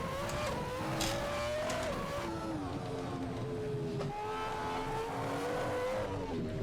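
An F1 car screams around the Monaco street circuit in a racing video game, its engine revving up and down through gear changes with brief tire squeal, loud and continuous with no talk.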